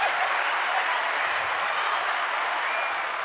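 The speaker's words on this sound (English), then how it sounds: "Can we get a round of applause," An audience breaks into a steady, full round of applause, many hands clapping together in a dense, even wash of sound that holds at the same level throughout.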